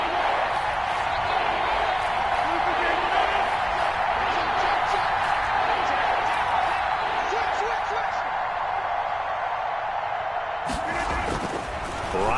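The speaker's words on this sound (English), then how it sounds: "The crowd getting into it as we come up on a big 3rd down" A stadium crowd in a football video game keeps up a loud, steady roar of cheering that swells and holds, broken by a sharp thud near the end, with commentary voices talking over it.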